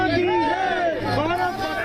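Indian crowds greet Prime Minister Modi with a brief, loud burst of many overlapping voices, cheering and shouting close together in a busy, unbroken din.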